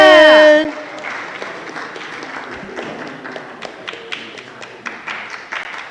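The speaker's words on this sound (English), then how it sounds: "I want y'all to start clapping right now." A crowd at an International Overdose Awareness Day gathering in Ward 6 of Washington, DC claps steadily, with scattered sharper claps standing out. A short loud burst of other sound opens it, then the applause continues at a moderate level.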